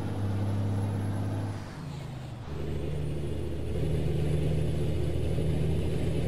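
A Kenworth W900L truck from American Truck Simulator runs with a deep steady engine drone that dips briefly as it shifts, then rises again to a loud sustained low rumble with no one talking.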